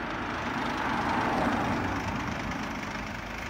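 Parked cars and taxis sit idling outside the Scottish Parliament, a steady low engine rumble with a faint hiss of street noise and no voices.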